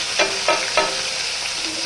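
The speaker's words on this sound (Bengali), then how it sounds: "তেল ঢ্যাঁড়সগুলো আগে ভেজে নেব" Okra sizzles in hot oil with a bright, steady frying hiss, broken by three or four quick stirring or dropping sounds at regular intervals.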